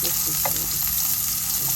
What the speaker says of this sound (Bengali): আলু মাছ ভাজা হয়ে গেছে আলু ভাজা হয়ে গেছে খুব সুন্দর করে ভাজি